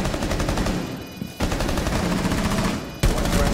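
Dense automatic gunfire in the video game Rainbow Six Siege rattles loud and close in long bursts, broken by two short pauses.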